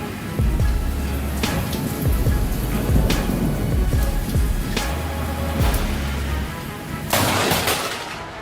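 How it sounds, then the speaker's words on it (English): Thunderstorm in Queensland seen from a room: steady heavy rain hiss throughout, broken by several sharp thunder cracks and low rumbles at irregular intervals, fairly close and loud. "a tourist decided to film a lightning storm from the safety of his room"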